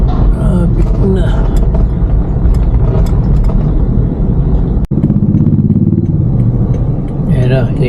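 Dense, loud road traffic rumbles steadily from Plaridel, Bulacan to Quezon City, with engine drone and clatter of cars and motorcycles squeezing between lanes while people talk over the noise throughout.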